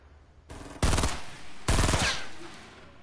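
Two loud, close bursts of rifle fire in a shooter video game, each a quick rattling string of shots, separated by a short gap and trailing off into fading echo.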